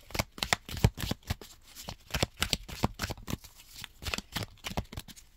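A deck of oracle cards being shuffled by hand, a rapid run of crisp, close riffling slaps and flicks in quick irregular bursts, with no talking.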